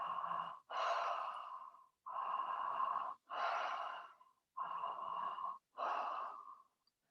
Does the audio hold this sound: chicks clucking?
no